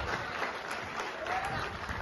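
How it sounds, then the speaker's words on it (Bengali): Applause for teachers at a Teachers' Day celebration, a brief, fairly soft spell of steady clapping from an audience with some voices mixed in. "ভাই জোরে হাততালি আমাদের স্যারদের জন্য"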